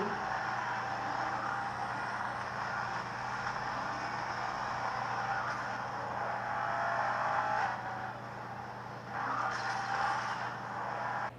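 Racing cars roar through Asphalt 8 Airborne played on a Coolpad Note 3 phone, a steady engine drone running the whole time with slight swells and dips, plus a brief skid-like flare near the end.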